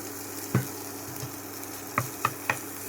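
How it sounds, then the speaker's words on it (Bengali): Shrimp fry in hot oil on a gas stove, a soft, continuous close sizzle punctuated by four sharp utensil clicks against the pan, one early and three in quick succession near the end. "এবার হচ্ছে এই চিংড়ি মাছগুলো ভাজবো।"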